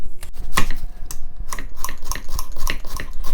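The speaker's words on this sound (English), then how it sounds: "I'm going to first cut the onion" An onion is chopped with a knife on a board, several sharp irregular cuts and taps close by, with a faint kitchen hum beneath and no talk.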